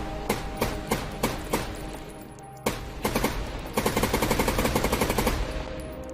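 A gun in a zombie survival video game fires loud, close shots, first as spaced single rounds, then a heavy blast followed by a rapid automatic burst with hard, punchy reports.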